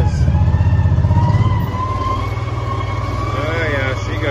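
A 2014 John Deere 550 Gator utility vehicle runs close by with a steady, throbbing low engine drone. The drone eases to a lower, even idle-like hum as the machine moves off, with no clear voices over it.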